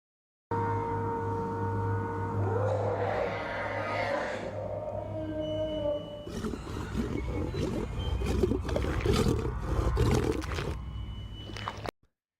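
Star Wars Wampa creature vocalizations: a continuous loud, deep roaring growl with gurgling, wavering tones, shifting into a harsher, crackling, snarling roar that runs for about eleven seconds before cutting off abruptly.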